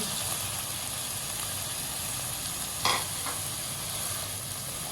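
Boiled chickpeas with whole spices, including black cardamom, are stirred in a pan for Lahori chana; a constant hot sizzle runs throughout, with one brief louder scrape of the spoon near the middle.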